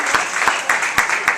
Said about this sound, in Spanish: Un aplauso acá a los técnicos,